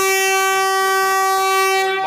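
A Vande Bharat Express train at Thrissur railway station sounds a loud, sustained electric horn, one steady tone held for about two seconds with no talk over it.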